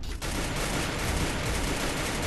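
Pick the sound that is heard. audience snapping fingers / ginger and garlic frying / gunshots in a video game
gunshots in a video game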